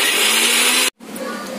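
An electric blender whirs loudly while grinding onions to a smooth paste, a steady dense motor roar that cuts off abruptly, then a softer mechanical hum and faint clatter follow briefly.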